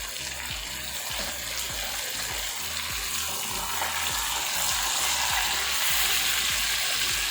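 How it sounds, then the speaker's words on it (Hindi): Frozen tomatoes hit a hot pan of tandoori chicken karahi and sizzle loudly and steadily, with regular scraping clicks of stirring running through the constant frying hiss. "और अब हम इसमें ऐड कर लेते हैं ये टोमेटो। इसमें से धुआं निकल रहा है क्योंकि ये फ्रीज टोमेटो थे।"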